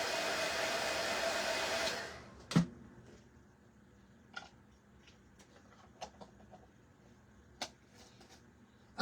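A handheld hair dryer blows hot air over a freshly printed shirt to dry and heat set the print. Its loud, steady rush runs close for about two seconds, then cuts off, leaving a few scattered clicks and taps.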